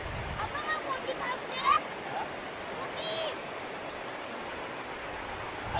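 Rain-swollen stream water spills over a small check dam in a steady, continuous rushing wash at moderate distance, with a few faint chirps and muted voices now and then.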